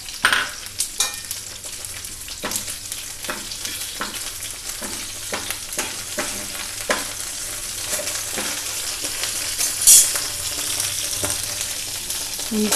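Curry leaves frying in hot oil alongside green chilies, a continuous close sizzle and crackle with sharp pops and spoon stirring clicks throughout.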